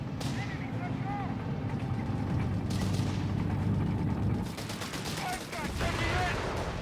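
Battle in Company of Heroes 3 pits a British Bren gun against a Panzer III, with dense overlapping rifle and machine-gun bursts and thuds layered under a commentator's voice.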